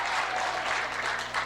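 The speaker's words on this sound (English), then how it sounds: "Let's hear your applause if you think it's this one." An audience at a 1986 magic show in Bathurst breaks into steady, close applause, a dense wash of clapping that fills the whole moment without pause.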